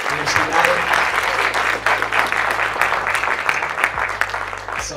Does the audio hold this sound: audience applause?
yes